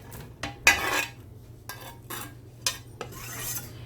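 Chopped onion tipped into a pan with olive oil and garlic, giving a few short scraping, clattering bursts of utensil on cookware with a light sizzle between them, close and without talking.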